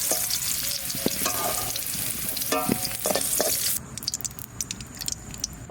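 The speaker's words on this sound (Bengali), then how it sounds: "ভাজা হয়ে গেছে হালকা ভেজে দিচ্ছি" Duck meat frying lightly in a pan for a village-style duck and potato curry: a loud, steady sizzle broken by scraping stirs and utensil clinks, easing to a quieter sizzle after about four seconds.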